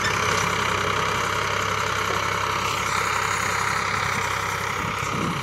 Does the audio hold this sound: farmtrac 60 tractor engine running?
yes